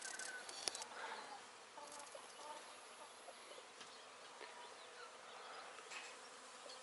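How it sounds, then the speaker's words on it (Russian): Honeybees on their spring cleansing flight around the hives, a steady, dense buzzing drone of many insects filling the air outdoors, moderately loud and continuous with no talking. "Вот, пчелки облетываются"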